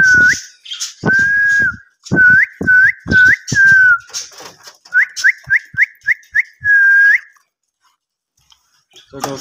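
A person whistles repeatedly to call pet cockatiels, sharp rising and falling whistles in quick bursts, some long and some short, close and fairly loud with brief gaps and no talk.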